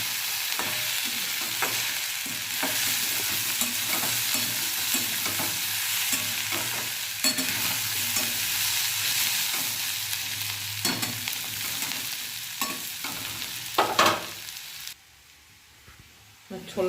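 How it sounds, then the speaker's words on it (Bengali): Boiled chickpeas fry in a hot pan for a chickpea mixture snack, a steady sizzle running throughout while a utensil stirs and scrapes in repeated close strokes, ending abruptly. "সেদ্ধ করে রাখা ছোলাটা থালাটা ঢেলে নিয়েছে"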